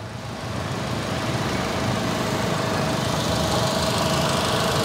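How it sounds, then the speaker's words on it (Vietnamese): A 2016 Chevrolet Spark with a four-cylinder engine idles smoothly. Its even, close hum holds a steady level throughout with no voices. "Cục máy êm lắm, cục máy siêu êm luôn."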